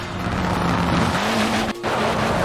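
A car in the Forza Horizon 4 racing game drifting on a dirt stage, with a steady engine drone and sliding tire noise that briefly drops out before carrying on.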